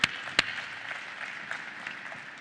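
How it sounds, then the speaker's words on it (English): Audience applause at a startup talk event, heard as a steady, fairly faint wash of clapping with a couple of sharp louder claps at the start. "Please give them a big round of applause and welcome them on stage."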